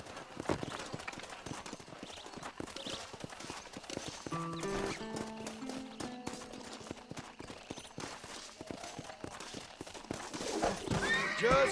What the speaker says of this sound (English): This steed looks right fetchy, I don't mind telling.